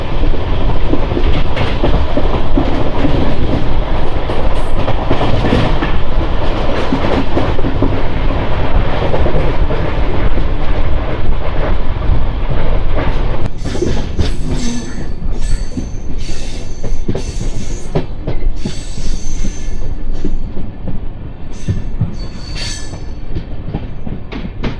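Heard from aboard the Charlapalli Superfast Express from MGR Chennai Central, running through Tada station: a loud, continuous roar of wheels and rails that thins partway through into sharper clicks and squeals.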